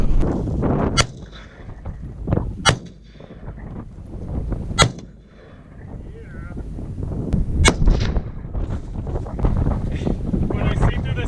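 Gunshots from a Glock pistol go off outdoors on a windy desert day, several sharp cracks spaced irregularly over constant heavy wind buffeting on the microphone.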